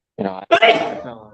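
A single sharp sneeze up close, a short inhaled catch followed by an explosive burst.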